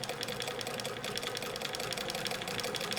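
A Bernina 730 Record vintage sewing machine runs steadily, stitching decorative embroidery patterns with a continuous whirring motor and rapid needle clatter, close and fairly loud throughout.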